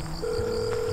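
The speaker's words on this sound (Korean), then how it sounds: "왜 이렇게 전화를 안 받아" A phone rings on and on with no answer, a steady electronic tone held close and loud outdoors near a park's back gate.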